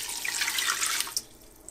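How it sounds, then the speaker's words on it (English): Water splashes and gurgles as two cups are poured into an 8-quart Instant Pot Duo Nova pressure cooker for about a second, then stops with a few small drips. "Now I'll pour in 2 cups of water"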